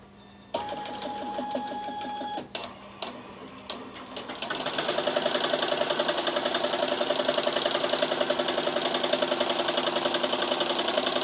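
An embroidery sewing machine runs on a hooped shirt, starting with a few tonal beeps and motor whirs, then settling into a loud, rapid, steady mechanical stitching rhythm close by.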